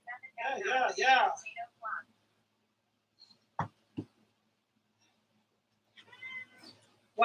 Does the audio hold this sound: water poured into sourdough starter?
no